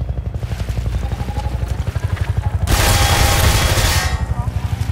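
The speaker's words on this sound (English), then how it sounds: "Probably need to hide from the plane though." A Half-Life 2 aircraft passes overhead as a loud, rumbling engine drone with a rapid pulsing throb. The noise swells into a broad roar partway through and then eases back.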